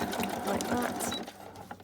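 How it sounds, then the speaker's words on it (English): A sewing machine back-stitches across a fabric cover for a junk journal, a close, steady motor whir with rapid needle clatter that fades near the end, with a voice talking over it. "just going to turn it round and then I'm just going to back stitch to catch that"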